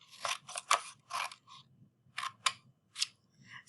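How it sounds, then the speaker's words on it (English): Scissors snip through small paper strips, several crisp close-up cuts in short bursts with brief pauses between them. "I'm cutting all of these little strips right here."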